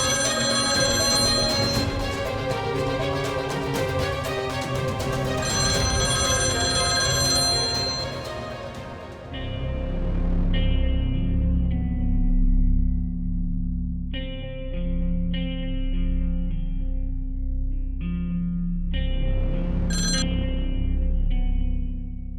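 A phone ringtone plays as a bright, electronic repeating melody, loud and alone, first fuller and then thinning into sparse tones before a final burst.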